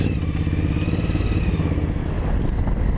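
A KTM motorcycle riding through sand during a roadbook training ride, a steady, loud engine drone with clattering and wind noise close to the rider throughout.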